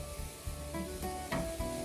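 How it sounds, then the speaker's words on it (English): Ground turkey browning in a pan on an RV stove, a steady soft sizzle with a few scraping stirs of the spatula, close and alone. "I brown it up a little bit because it will cook once it's in the pie."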